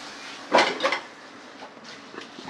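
Kochur loti (taro stolons) flipped in a cooking pot gripped with cloths: two quick clattering knocks of metal and food close by, followed by quieter faint shuffling.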